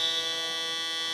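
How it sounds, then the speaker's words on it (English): A steady, loud electronic buzzer sounds continuously at a 5x5 basketball game between Negeri Sembilan and Penang, holding one sustained tone throughout. "the buzzer will sound just before they can take a shot attempt here"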